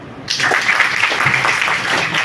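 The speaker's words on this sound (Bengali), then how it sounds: "আমরা আলাদা করে তাকে একটা করতালি দিই" A brief burst of audience clapping at a debate competition, a dense crowd sound that starts abruptly and holds steady for about two seconds.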